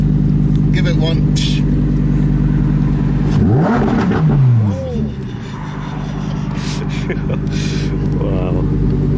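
Lamborghini Huracan Performante Spyder engine revving loudly from inside the car, a sharp rising and falling rev burst mid-clip over a steady engine drone, with no talk.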